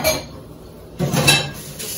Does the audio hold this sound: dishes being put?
yes